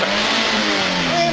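A car engine running on Pitu cachaça in place of gasoline revs loudly and steadily up close, a sustained mid-pitched roar with no voices over it.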